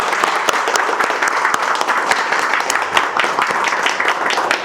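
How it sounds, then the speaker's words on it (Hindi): A training class audience gives loud applause to open a new batch session, a close, dense patter of many hands clapping steadily throughout with no speech over it. "एक बार जोरदार तालियों से साथ शुरुआत करेंगे बैच की"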